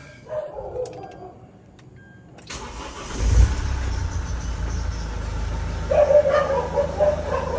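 A car engine cranks and roars to life, then settles into a steady, loud idle close by, with a dog barking faintly near the end.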